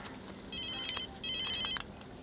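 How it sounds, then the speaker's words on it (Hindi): A mobile phone ringtone plays two short bursts of bright, rapidly repeating electronic tones separated by a brief pause, clear over a quiet room background. "पकड़ियो, फोन आ रहा है।"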